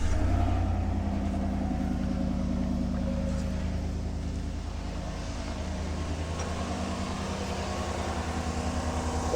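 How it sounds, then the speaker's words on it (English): A car engine, just revived with a JFEGWO 3000A portable battery jump starter, runs close by with a steady low idling rumble for the whole stretch, a touch louder at the very beginning and then settling evenly, with no voices. "Now once it's connected, you can go ahead and start your vehicle right up."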